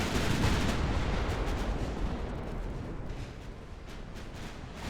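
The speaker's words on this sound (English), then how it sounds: "they all fired torpedoes" Ships fire torpedoes in the naval battle game Ultimate Admiral: Dreadnoughts, a dense, rumbling wash of launches and distant booming that is loudest at first and slowly fades, with no talking.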